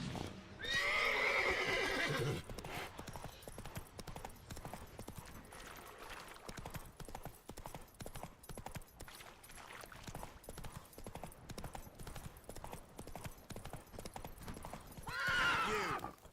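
Roach, the horse in The Witcher 3: Wild Hunt, gallops with steady, quick hoofbeats. A loud whinny comes at the start and another near the end.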